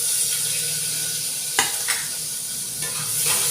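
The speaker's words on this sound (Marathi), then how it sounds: "बघा कांदा गोल्डन रंगावर तळत आला आहे" Onion frying in a pan for Marathi mutton curry, a steady sizzle with a few sharp scrapes of stirring, close and fairly loud with no talking.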